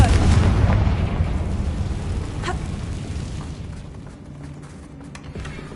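A Confringo fire spell from Hogwarts Legacy goes off as a loud, rumbling explosion right at the start, its deep blast slowly decaying into a long low roar over several seconds.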